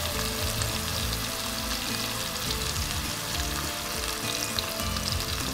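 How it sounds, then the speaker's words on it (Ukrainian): Steady, continuous sizzling of pancake batter frying in a hot pan, a dense crackling hiss with no talking. "поки смажиться млинець"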